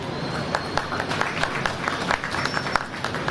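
An audience applauds steadily, a dense crowd of hand claps rising and falling with sharper individual claps standing out, with faint voices underneath.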